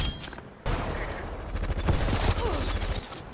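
Rapid gunfire in a video game sniping match, loud close cracks and bursts layered densely over rumbling low noise, with a brief lull before the volley picks up.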